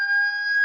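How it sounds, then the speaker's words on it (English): A siren sounds as a steady, unwavering tone with bright harmonics, held for under a second and heard alone. "What a siren that"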